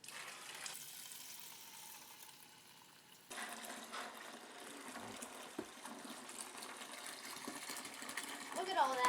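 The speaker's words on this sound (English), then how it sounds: "And in with the grape juice." Grape juice pours into a fermenting vessel for homemade Shiraz wine, a soft gushing, splashing fill that swells louder toward the end, close by, with a voice speaking over it.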